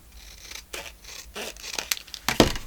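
Paper being cut in half with scissors for a handmade check book journal, a few crisp snips and rustles building to a louder sharp cut near the end, close and alone.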